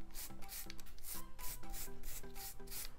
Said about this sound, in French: on va venir avec une brosse donc assez dure et enlever l'excédent des paillettes.